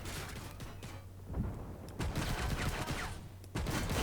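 Tank gunfire in the Armored Warfare video game, from a Terminator 2 vehicle: repeated bursts of rapid shots and booms over steady engine rumble, fairly loud throughout the four seconds.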